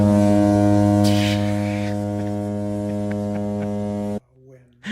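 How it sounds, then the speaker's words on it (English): A random foghorn blast, a deep, loud, sustained drone with strong harmonics that holds steady for about four seconds, then cuts off abruptly into near silence. "There's just a random like foghorn?"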